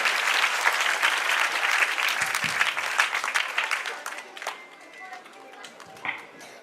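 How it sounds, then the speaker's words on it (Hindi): Applause from an audience at a village memorial programme welcoming a guest onto the dais, with sustained clapping and crowd noise that gradually thins out, with brief voices near the end. "जोरदार तालियों से स्वागत करिए"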